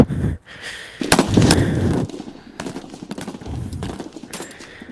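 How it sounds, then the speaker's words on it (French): Gunfire crackles during a video game session, with bursts of sharp shots and rapid volleys layered over a dense, noisy game soundscape. "Les tirs autour."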